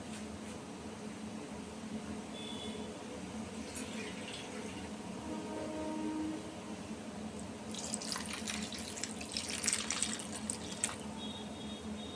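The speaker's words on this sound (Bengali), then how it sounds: "এর মধ্যে এবার সামান্য পরিমাণে জল মিশিয়ে দেবো।" A small amount of water is poured into a cooking pan while making a steamed pabda fish dish with mango and poppy seed paste, a soft steady hiss that swells into splashing and trickling near the end.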